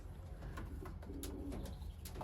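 Pigeons cooing inside a breeding loft, soft repeated low coos from several birds over a steady hum of room noise, with no talking.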